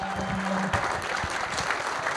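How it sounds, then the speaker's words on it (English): Pro staff at a New York Mets fantasy camp applauding a camper, brisk close clapping with a short vocal tone at the start and scattered voices underneath. "You're going to get a round of applause from the pro staff."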